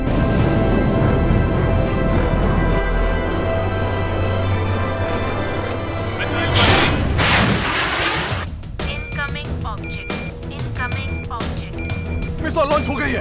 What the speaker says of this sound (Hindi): मिसाइल लॉन्च हो गई है।